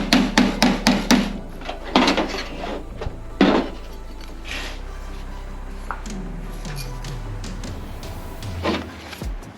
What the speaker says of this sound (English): I'm gonna hammer against the original tailgate